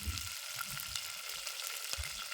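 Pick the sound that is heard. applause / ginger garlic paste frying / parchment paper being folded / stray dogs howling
ginger garlic paste frying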